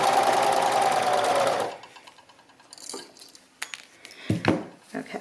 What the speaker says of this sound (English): I'm just going to keep the stitches going right over that